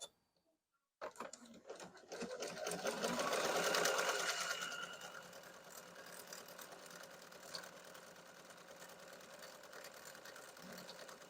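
A Bernina 770 QE Plus sewing machine runs steadily, stitching a wide beading stitch; a soft whirring and rapid needle clatter start after a second of silence, swell briefly, then settle into an even mechanical hum with no talk.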